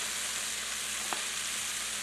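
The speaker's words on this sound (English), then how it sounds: "Now I'm just going to fry that up in a little bit of ghee" Alligator meat frying in a little ghee gives a steady, close, even sizzle throughout, with one faint tap partway through and no talking.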